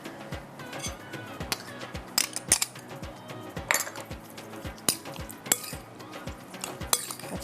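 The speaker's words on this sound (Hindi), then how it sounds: "अच्छी तरह से आपने इसको मिक्स करना" A metal spoon stirs and mixes ingredients in a pan, giving irregular close clinks and scrapes against the metal with no talking.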